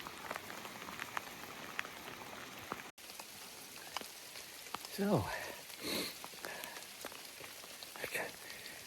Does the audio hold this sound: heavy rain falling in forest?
yes